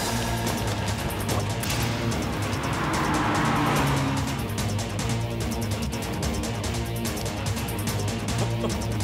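A car speeds away with a loud, sustained engine roar and a hiss of tires, steady and close throughout, with no talk.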